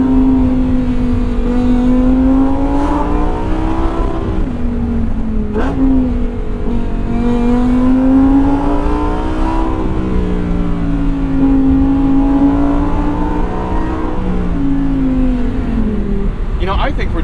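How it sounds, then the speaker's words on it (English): A 2022 Lamborghini Huracan with a V10 engine pulls hard under launch control acceleration, its loud engine note rising and dropping through repeated gear changes, heard from inside the car. "it's like the hills are alive with the sound of V10."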